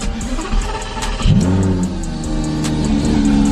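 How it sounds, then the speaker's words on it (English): A Lamborghini Gallardo engine starting up close by: a brief starter whir, then a sharp rev flaring up before settling into a steady, loud idle rumble. "Now we can start up the car."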